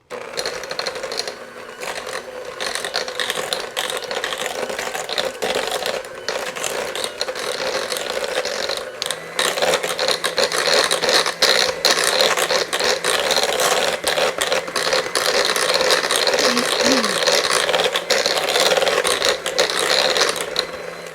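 Electric mixer creaming cookie dough with vanilla for cinnamon fiddlestick cookies, a loud, continuous whirring rattle with the beaters clattering against the bowl throughout, no voices.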